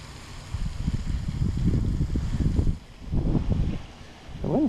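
Gusty wind at a pond buffets the microphone in uneven low rumbling surges that rise and drop off for a moment, with no talking heard.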